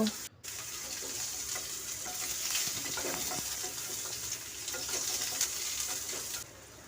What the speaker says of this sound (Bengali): ওর মধ্যে কুচানো আমড়াগুলোও দিয়ে দিচ্ছি হালকা করে আমি নাড়াচাড়া করে নেব